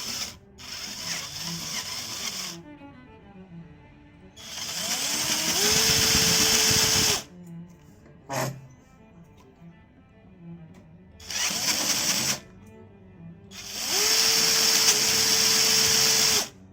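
An electric jigsaw adapter on a drill cuts in several bursts of harsh, buzzing whine, loud and close, separated by pauses and short rattles as the tool stops and restarts.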